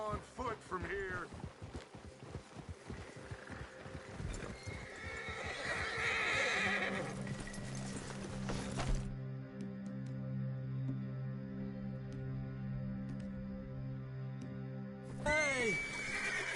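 Horses neigh and whinny in the Red Dead Redemption 2 video game, with clip-clopping hooves early on. The horse sounds are heard under voices talking, followed by a steady low hum of background music.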